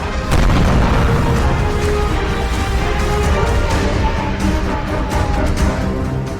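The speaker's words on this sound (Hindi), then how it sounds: "दक्षिणी लेबनान में ऐसे धमाके दिन रात हो रहे हैं।" Heavy explosions from Israeli bombing in southern Lebanon roll together into a loud, continuous rumbling barrage, with deep booms and sharp cracking bursts layered across the whole stretch.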